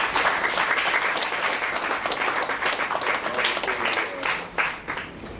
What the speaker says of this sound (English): just give a round of applause for the team.